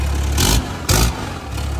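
A truck engine at a burnout show revs hard twice in quick succession, each roaring blast loud and close, with a rumbling idle between and after.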